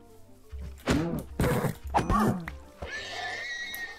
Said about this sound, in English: killing all the horses